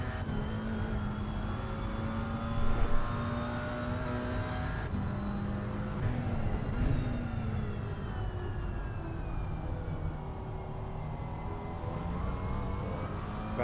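A McLaren GT4 race car in a simulated league race streams past, its engine a steady droning hum with shifting harmonic whine and occasional rising pitch sweeps, moderately loud and continuous with no voices.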